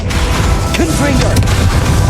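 Hogwarts Legacy battle against Ranrok: a Confringo spell bursts with a loud, dense boom amid continuous combat noise, with a voice shouting the spell.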